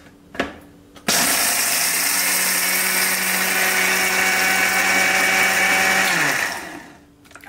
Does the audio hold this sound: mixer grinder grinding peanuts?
yes